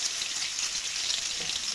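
Chopped onions frying lightly in a pan for keema karela, a steady soft hiss and crackle that holds even and unbroken, with no talking.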